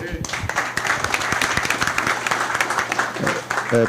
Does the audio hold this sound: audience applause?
yes